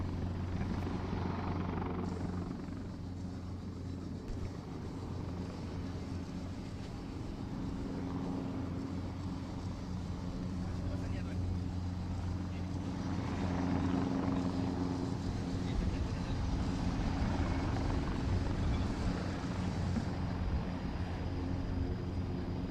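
An EC-725 helicopter hovers for a fast-roping insertion during a military firepower demonstration, its rotors and turbine producing a steady, droning whine that holds at a moderate, somewhat distant level with no break.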